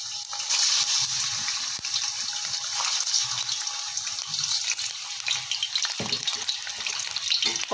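Chicken pieces hit hot oil in a karahi for Peshawari charsi karahi, a loud, close, steady hiss and crackle of frying that swells briefly near the end.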